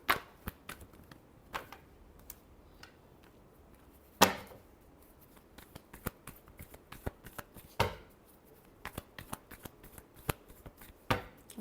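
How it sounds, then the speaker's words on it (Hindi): Tarot cards shuffled by hand, crisp irregular slaps and riffles, close and fairly quiet, with a few sharper snaps standing out among lighter flicks. "Last shuffle."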